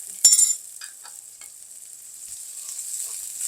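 Beltfish braising sauce with a tablespoon of spicy bean paste stirred in a frying pan, a sharp scrape at the start followed by a steady, close hiss of sizzling with faint stirring clicks.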